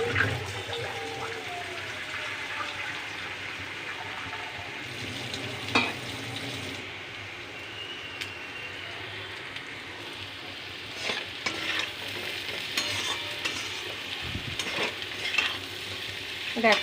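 Kochu onion curry sautéing in a pan, with a steady low sizzle and occasional utensil scrapes and knocks from stirring throughout, fairly close and moderately loud, no talking.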